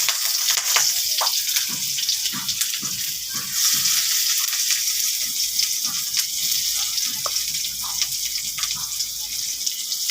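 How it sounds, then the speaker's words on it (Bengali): Chopped onions frying in a pan for a noodle dish, a steady close sizzle with scattered crackles and stirring scrapes, and a voice talking over it at times. "এই কাটা পেঁয়াজগুলো দিয়ে দিব।"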